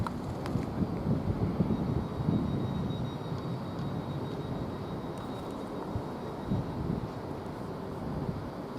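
A train bound for London King's Cross pulls into Peterborough station with a steady low rumble and a broad roar of rolling wheels, a thin whine above it, and wind buffeting the microphone.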